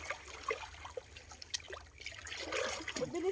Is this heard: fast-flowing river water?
yes